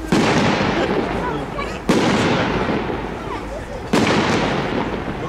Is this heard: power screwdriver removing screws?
no